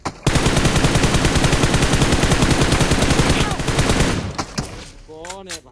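Sustained automatic gunfire in PUBG, coming from behind: a dense, loud stream of rapid shots for about four seconds, then scattered softer shots and a brief voice.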